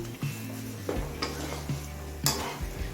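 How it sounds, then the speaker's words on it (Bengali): A spoon scrapes and clinks in a pan as Shyama rice and mung dal fry, with a few distinct stirring strokes and a low sizzle underneath, close and moderately quiet with no talk. "চাল আর ডালটা দিয়ে আরও মিনিট পাঁচ ছয় কষিয়ে নিয়েছি"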